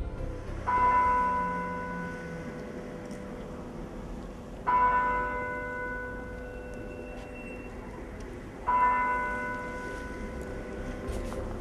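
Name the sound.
church bell ringing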